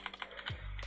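Soft, quick keystrokes on a computer keyboard, about half a dozen faint clicks in under a second, close and quiet with no talking.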